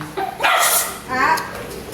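A dog at a family birthday gathering gives a couple of sharp barks and yips, close and loud, mixed with people's voices and background noise.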